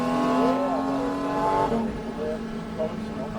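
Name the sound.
race car driving at Xtreme Experience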